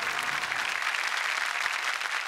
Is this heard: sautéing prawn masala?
no